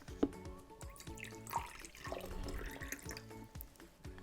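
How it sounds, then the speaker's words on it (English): Water runs from a tap into a cup for egg dyeing, a soft steady trickle and splash with faint drips, quiet and close, no voices over it. "So first, you're going to put some water into the cup."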